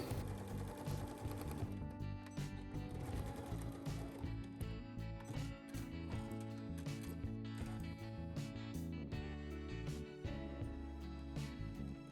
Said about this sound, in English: go ahead and stitch down the armhole facings the same exact way